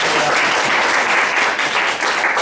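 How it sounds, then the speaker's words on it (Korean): A lecture audience at a Christian worldview and science talk gives a professor a welcome with loud, dense applause: many hands clap close by in a steady, unbroken burst. "우리 교수님께 인사를 한번 박수로 한번 환영해 주십니다."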